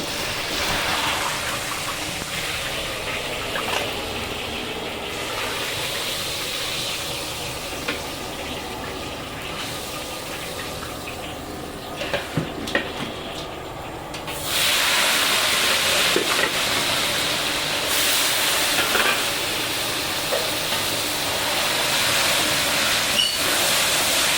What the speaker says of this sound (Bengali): বেশি ভাজবো না অল্প অল্প ভেজে তুলে নেবো